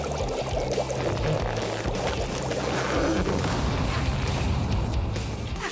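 Water pours in a dense, continuous cartoon gush over a Super Mario Bros. scene to douse a fire, loud and steady throughout with no talk over it.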